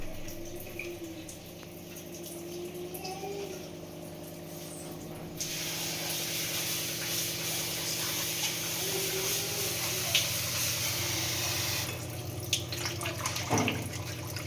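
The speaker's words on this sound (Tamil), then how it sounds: "நெக்ஸ்ட்டு நம்ம கொத்தமல்லியவும் வாஷ் பண்ணிக்கலாம்." Fresh coriander leaves are rinsed under a running kitchen tap. A steady spray of water hisses through the middle of the clip, with a low hum behind it and no talking.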